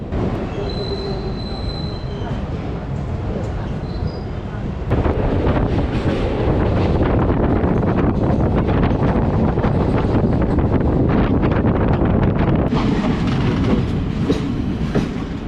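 Passenger trains cross as the Koshi Super Express passes the Vananchal Express, a loud, continuous roar of rolling wheels and rattling carriages with rhythmic clatter, wind buffeting and wheel squeal throughout.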